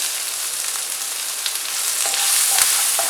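Onions with salt sizzle and fry in a pan, a steady close crackling hiss throughout with a few brief stir clicks near the end.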